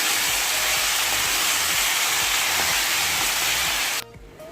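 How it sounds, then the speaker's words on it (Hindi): Garlic fries in oil over a lowered gas flame, giving a steady, loud broadband sizzle and hiss that runs unbroken for about four seconds before cutting off abruptly. "गैस का फ्लेम थोड़ा हम कम रखेंगे और इसको 4 से 5 मिनट तक अच्छे से भून लेंगे।"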